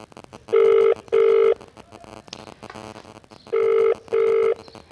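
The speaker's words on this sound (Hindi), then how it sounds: "फ़ोन मिल गया है" A phone call rings out: a short burst of dialing tones, then two pairs of loud electronic ringback tones, separated by a low murmur of background noise.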